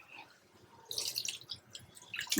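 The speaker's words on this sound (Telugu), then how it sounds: "మనం వాటర్ పోసుకుందాం" A short splashy pour of water into a pressure cooker of broad bean curry starts after a quiet moment, with a brief second gush at the end.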